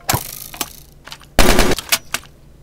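Gunfire from a gun in the Minecraft Flans Mod comes as a few sharp single shots and then one short loud rapid burst, followed by two more isolated cracks, close and punchy with nothing between them.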